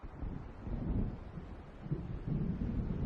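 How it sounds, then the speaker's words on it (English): Low rumbling thunder from an approaching storm in the video game Alan Wake rolls steadily and fairly loud, a continuous deep growl mixed with windy noise and no speech. "It seems there's a storm coming."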